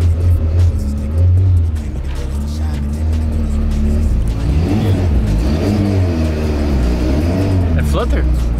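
A turbocharged Ford 1.6 engine making 409 wheel horsepower revs and rises in pitch, loud and close, with fluttering turbo chatter after the throttle lifts while people talk over it.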